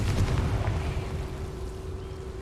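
Confringo blasting-curse explosion in Hogwarts Legacy: a loud low rumbling boom at the start that decays into a sustained, fading roar over about two seconds, with no talk.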